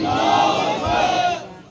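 A crowd at a religious gathering shouts a slogan response in unison, a loud sustained collective roar rising twice in quick succession before tapering off.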